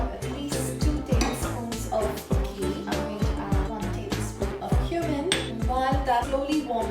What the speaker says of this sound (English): It's still a little bit lumpy, so I'm just going to quickly give it a whisk.